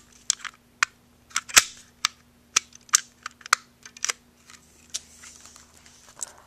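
An HFC Glock 17 spring airsoft pistol being handled as its slide locks back, giving a run of sharp, close plastic clicks and snaps at irregular intervals with faint rustling between them.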